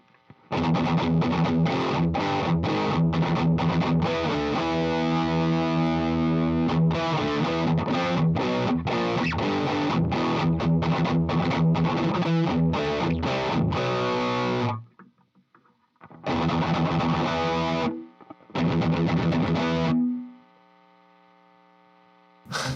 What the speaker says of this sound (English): That P90 is pretty sweet sounding.